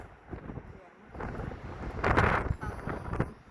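Strong typhoon wind buffets the microphone in low rumbling gusts, swelling louder toward the middle, with a voice speaking faintly underneath.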